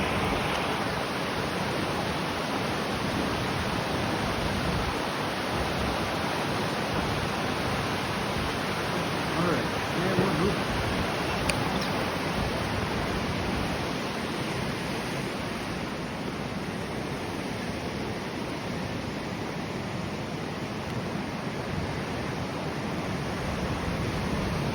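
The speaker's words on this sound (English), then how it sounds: "the power of this water is incredible" Powerful rushing water roars in downtown Akron, a steady, dense, broadband torrent that holds constant and close for the whole stretch with no break, no voices over it.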